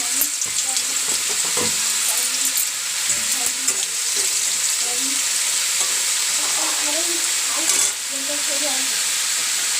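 Cabbage and potato with garlic fry in hot oil, giving a continuous close sizzle and crackle with occasional stirring scrapes and faint background voices.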